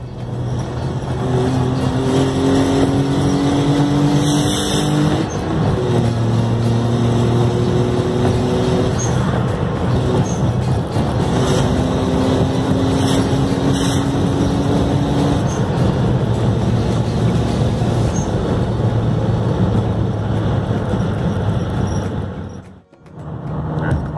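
A turbocharged 1,200 cc car engine revs repeatedly, its pitch climbing and falling over a steady loud drone, heard close with no talk and a sharp drop in sound near the end.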